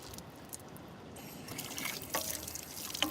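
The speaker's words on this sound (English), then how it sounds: "I'm cleaning the rubbish out of my bottles" Water drips and trickles while dirty bottles are rinsed out, faint splashes and a few sharper drops over a low background hiss.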